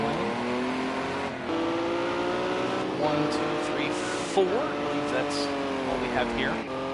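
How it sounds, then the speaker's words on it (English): Several race cars from a Le Mans prototype racing game pull out of pit lane together, their engines droning steadily with rising and falling pitches, while a commentator talks over the continuous engine noise. "We got huge group of cars now coming out of the pit lane."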